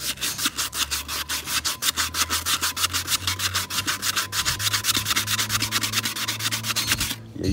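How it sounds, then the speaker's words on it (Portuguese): Steady back-and-forth hand sanding of a car wheel with 400-grit sandpaper, a close, continuous rhythmic scratching with regular strokes that stops just before the end, with no talk over it. "Vou lixar aqui agora de boa, na calma."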